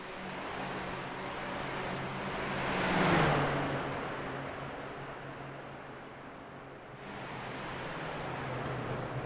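Race car engines roar in a sim racing game at Circuit Gilles-Villeneuve in Canada, a steady droning blend of motors with one car swelling louder as it passes close, then the pack continuing at an even level.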